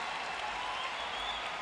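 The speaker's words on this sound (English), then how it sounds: "A rousing cheer from the crowd." Paralympic swimming crowd at the Rio 2016 Games cheering and applauding a finishing swimmer, a steady, dense wash of clapping and cheers that holds evenly through the moment.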